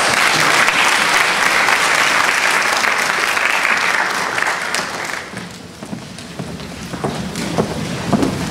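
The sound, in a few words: audience applause for a speaker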